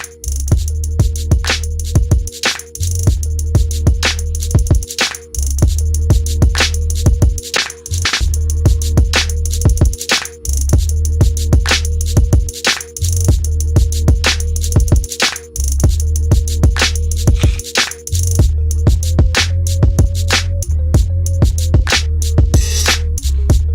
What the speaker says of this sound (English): You hear that hi hat? That's a real hi hat.